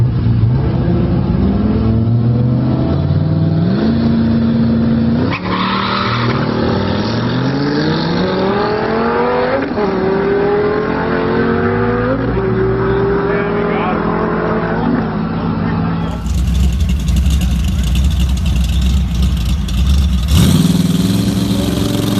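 A twin-turbo LS V8 in a Nissan 240SX revs and pulls hard through rising gear sweeps, loud and close, with a voice talking over the engine.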